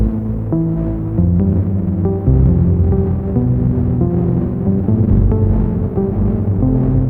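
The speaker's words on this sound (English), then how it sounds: "So there's that digital distortion, I love it." Loud, shimmering guitar chords washed in reverb from a Pladask Rom pedal, its texture effect adding a gritty digital distortion, notes ringing and sustaining without pause.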